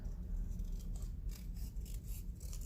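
Scissors snipping through paper while trimming a handmade greeting card at a craft table, heard as a run of short crisp cuts and rustles, close up and moderately quiet, with no voices.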